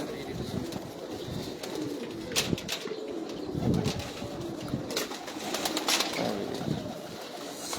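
Pigeons of an old breed being flown from a rooftop, with soft cooing and bursts of flapping wings amid a busy, fairly distant outdoor background.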